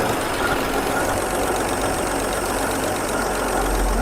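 An abandoned 1976 AMC Pacer's engine runs at a steady, rough idle, loud and close throughout with a constant low rumble and no talk over it.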